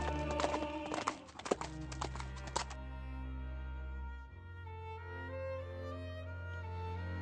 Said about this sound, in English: He spurred his horse onward